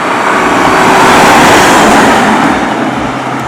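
A 2006 Lexus IS350 sports sedan driven along twisty back roads, producing a loud, constant roar of road, wind and engine noise with no pauses and no speech.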